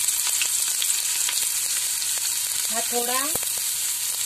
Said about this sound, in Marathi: हे माझं तेल गरम झालंय। मी त्यात आता हा एक कापून घेतलेला कांदा टाकते।